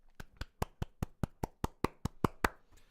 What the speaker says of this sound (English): little clap for that